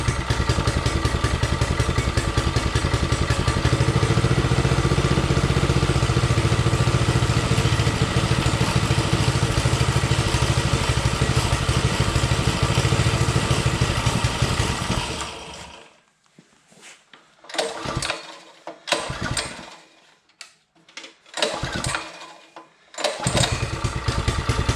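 A Predator 212 small engine fitted to a vintage mini bike runs loud and close with steady choked chugging for about fifteen seconds, then cuts out and restarts in short sputtering bursts.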